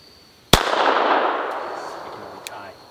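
A single sharp shot from a Beretta 81 pistol fired at a playing card outdoors, loud and close, followed by a long rolling echo that fades, with a faint click afterward and no speech.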